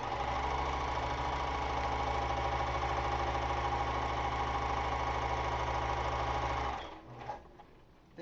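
A sewing machine runs a long continuous basting stitch along a set-in sleeve, a loud steady mechanical whir that stops abruptly near the end, followed by a few soft handling noises.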